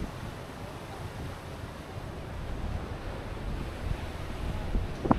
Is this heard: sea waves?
yes